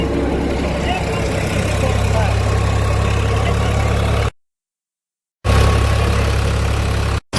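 A Field Marshal 712 tractor engine with 15 HP extra power runs steadily in a dry field, a loud continuous low rumble that cuts out briefly mid-clip and then resumes.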